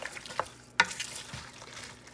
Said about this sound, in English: we're gonna of course stir everything up again